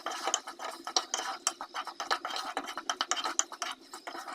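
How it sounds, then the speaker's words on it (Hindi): Potatoes are stirred and roasted in masala in a pan, with a spoon scraping the metal in quick, regular strokes, close and fairly soft, and no speech. "अच्छे से आलूओं को भूनना है।"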